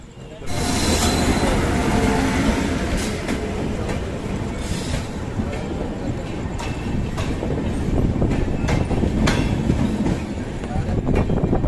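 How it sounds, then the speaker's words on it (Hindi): The 12546 Karmbhoomi Express runs nonstop toward Barauni Junction, heard from on board as a steady, loud rumble of wheels on rails with rhythmic clacks and occasional squeals throughout. "तो लगातार नॉन स्टॉप 110 किलोमीटर ट्रेन चलने वाली है।"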